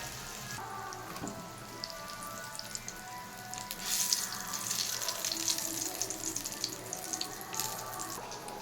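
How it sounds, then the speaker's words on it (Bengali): Prawn and taro koftas frying in hot oil in a home kitchen, giving a continuous, fairly quiet crackling sizzle that swells a little partway through, with no talking. "এবার ভাজতে দিয়ে দিচ্ছি"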